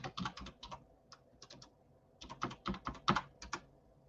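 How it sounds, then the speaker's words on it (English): Quick bursts of typing on a computer keyboard, entering text into a chat during a live tarot reading stream; irregular clusters of key clicks with brief pauses, fairly close and moderate in level, with no speech. "Here, I'm going to write it in the chat."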